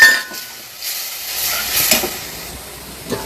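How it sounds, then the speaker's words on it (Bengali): Raw plantain pieces fry in hot oil with a hissing, bubbling sizzle that swells and fades, with a few light scrapes. "কলাগুলোকে ভেজে নিচ্ছি"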